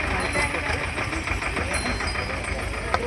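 A tractor engine runs steadily on a mountain road on the Kedarnath route, its low rumble droning continuously with a faint knocking texture, mixed with background voices and ambient noise.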